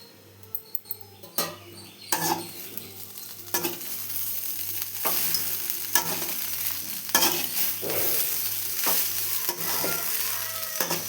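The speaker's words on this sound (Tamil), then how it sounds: "இப்போ எல்லாத்தையும் சேர்த்து நம்ம நல்லா கிண்டி விடலாம்" Cooked coconut rice with added salt is stirred in a pan: irregular spoon scrapes and soft clacks over a faint sizzle and a low hum, fairly quiet, with no voices.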